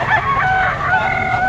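A yellow-legged pumpkin stag rooster at a market in Padre Garcia, Batangas, crows once, loud and close, its drawn-out call filling the short moment.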